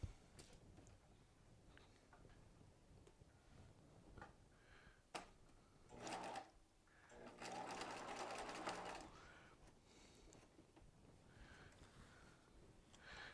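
A sewing machine stitches a sleeve seam at a half-inch allowance with a back tack, running in short bursts and a longer steady run mid-clip, fairly close, with quiet handling noises between.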